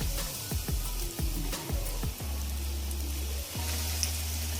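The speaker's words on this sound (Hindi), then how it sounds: "ऑयल हमारा गर्म हो गया है, कबाब को मैं फ्राई करने लगा हूँ।" Potato and egg kebabs frying in hot oil over a low flame, a steady soft sizzle with a few sharp clinks and taps as the pieces go in, no talk.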